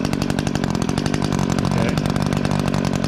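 A small Echo two-stroke engine runs with the choke off, a loud, close, buzzing idle with a fast regular pulse, and a voice briefly speaks over it.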